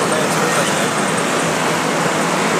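A traffic jam on the Pune-Bangalore highway: a dense, steady wash of roadway noise and idling vehicles, loud and continuous, with faint voices mixed in.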